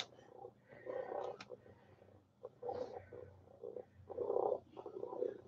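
A toy cat's purring motor gives a low, rumbling purr in repeated bursts, close and fairly quiet, with short pauses between them.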